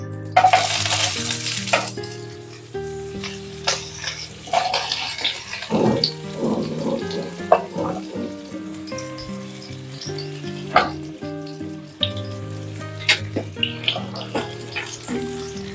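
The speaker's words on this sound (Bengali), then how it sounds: "ফোড়নটা একটু নেড়ে নিয়ে এক এক করে সবজিগুলো দিয়ে দেব।" Tempering spices and vegetables for a bitter leaf shukto fry in a pan, a steady hiss and crackle broken by repeated scrapes and knocks of a spatula stirring, with faint background tones.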